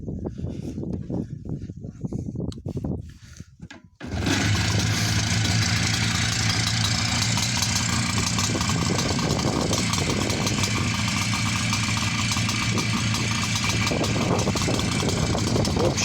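A car fitted with an aftermarket exhaust idles loudly and steadily with a deep, rumbling exhaust tone, following a few seconds of quieter talk and background noise.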